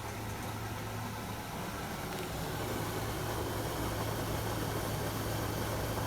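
A Broan 110 CFM bathroom exhaust fan with a new motor runs steadily, making a constant low hum and broadband whoosh at moderate loudness, with no voices over it.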